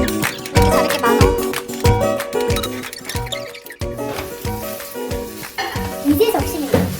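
Curry ingredients are stir-fried in a hot pan: loud, close, continuous sizzling punctuated by repeated scraping and clattering strokes of a utensil against the pan.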